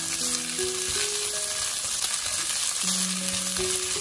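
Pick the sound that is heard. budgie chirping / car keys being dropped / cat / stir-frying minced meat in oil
stir-frying minced meat in oil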